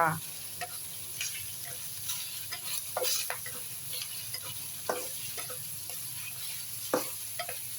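Beef sizzles softly in a pan while being stir-fried, with scattered scraping and clinking of the spatula over a low, steady frying hiss.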